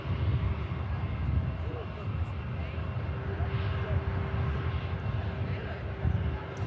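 Boeing 747 jet engines at Manchester Airport: a steady distant rumbling roar with a faint whine on top, continuous and moderately quiet, heard outdoors under a voice talking.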